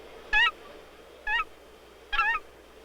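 An Aleutian Canada goose honks three times, each a short harsh nasal call spaced about a second apart, close and clear over a faint background hiss.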